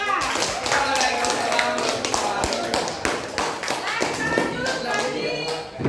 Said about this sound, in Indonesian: Ya, aplaus dari untuk kelompok 2.